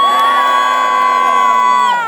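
A concert crowd in the O2 Arena in London roars and cheers loudly and continuously, dense sustained shouting and screaming between bands at a metal gig.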